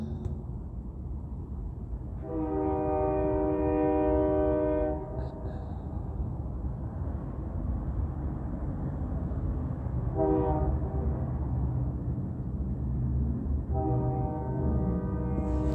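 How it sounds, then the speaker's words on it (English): A loud train horn blows in long sustained harmonic blasts, one lasting a few seconds, then two shorter ones, over a constant low rumble of rail traffic. "The moment I move, immediately sounding a loud horn as though that's the train."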